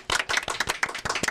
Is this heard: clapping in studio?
yes